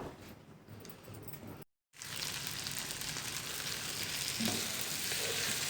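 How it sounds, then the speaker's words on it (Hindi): Chicken frying in butter in a pan over a medium flame, sizzling with a steady hiss. A short break in the sound is followed by louder, brighter crackling that carries on to the end, with no voices. "अब हमारे पास जो चिकन हमने अलग से निकाल के रखा था ये इसमें डाल देंगे और इसको 1 से 2 मिनट के लिए इसको फ्राई कर लेंगे बटर में"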